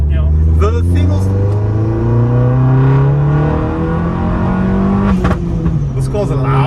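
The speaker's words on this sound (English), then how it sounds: "this car's loud because it's straight piped." A loud, raspy straight-piped Opel Corsa OPC engine revving up in a steady rising pull, rumbling close by, with brief bursts of talk over it.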